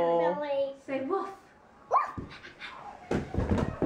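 A small child pretends to be a puppy and gives a few short, voiced woof-like yips, imitating a dog's bark, with adult talk around them at close range.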